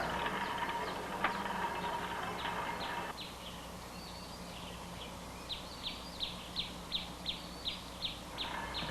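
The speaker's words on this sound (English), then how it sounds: "we are now pulling a train out of the train company plant." Trolley train pulling out of the General Electric plant in Scranton or Wilkes-Barre, Pennsylvania, heard as a low continuous rumble with a sharp clank, joined later by a series of evenly spaced high chirps or squeals, fairly faint throughout.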